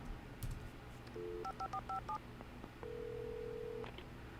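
Phone keypad dialing in the video game Alan Wake: a short burst of beeping touch-tones followed by one long steady tone, over a low game ambience with no talk.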